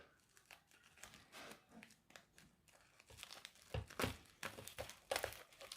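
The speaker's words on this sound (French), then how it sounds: "On va déballer les petits colis." Small parcels being unwrapped, with close crinkling and tearing of packaging in irregular bursts that grow louder toward the end; no talking.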